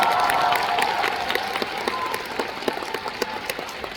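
A concert audience in Seoul applauds, a dense burst of clapping that thins out into scattered claps over a few seconds, heard from within the hall.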